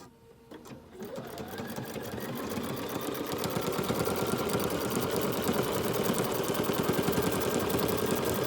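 A Bernina jumbo bobbin sewing machine starts up and stitches steadily, its fast rhythmic needle clatter rising in loudness and holding a constant mechanical pace close by.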